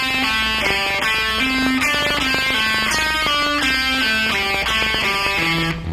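Electric guitar plays a fast pentatonic rock lick built from a descending sequence of quick picked notes, a dense run of distinct bright tones with no talk over it.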